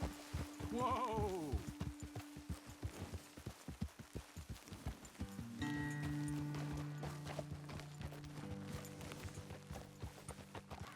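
Horse hooves clip-clop in the Red Dead Redemption 2 video game, a steady rhythmic walking beat near and clear with a brief whinny at the start and low game music underneath.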